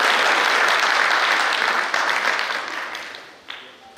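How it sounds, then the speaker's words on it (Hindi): Loud, thunderous applause from a large crowd at a formal ceremony fills the room, then gradually tapers off with a few scattered claps near the end. "तालियों की गड़गड़ाहट के साथ निमंत्रित करें।"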